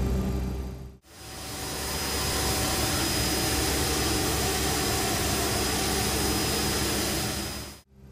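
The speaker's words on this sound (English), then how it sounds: "we are starting the right engine by hitting this start button right there" The right jet engine of a CRJ-200 regional jet spools up during start in the X-Plane 11 flight simulator, a loud, steady turbine roar with a thin high whine that swells and then holds evenly.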